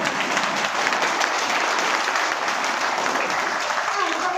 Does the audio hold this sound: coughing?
no